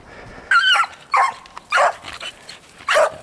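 Hounds chasing a rabbit bay in four loud, separate barks spaced about half a second apart, close by, with faint outdoor background between them.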